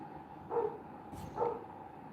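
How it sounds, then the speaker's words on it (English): Two dogs barking outdoors, two distinct barks about a second apart, moderately loud over a low background hum, with no talking. "Sorry, my dogs are out. You're going to hear them bark."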